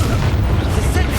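A Confringo spell blast in Hogwarts Legacy lands as a short, heavy boom with rumbling low end, loud and close, amid combat noise.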